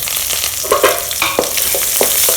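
Onion and garlic frying in hot tempering oil with mustard seeds, lentils, cumin and curry leaves for a spinach stir-fry, a close, loud, steady sizzle with a few quick stirring scrapes.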